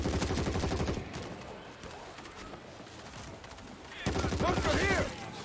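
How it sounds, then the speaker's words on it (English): Rapid gunfire from a gun in the zombie shooter World War Z, loud bursts at the start and again near the end, with a quieter gap of game ambience between them. "This is a fun sounding gun."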